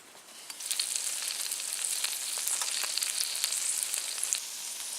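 Burgers sizzle and fry steadily in a pan inside a heated tent at a snowy winter camp, a continuous close crackling hiss with small pops and no talking.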